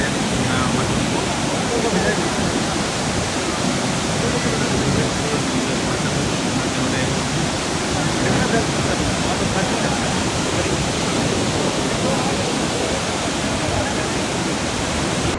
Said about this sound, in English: Niagara Falls